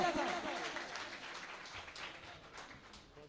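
A gathering in Muzaffar Garh breaks into applause, a dense, fading patter of clapping heard at moderate-to-low level, with a voice speaking faintly beneath it.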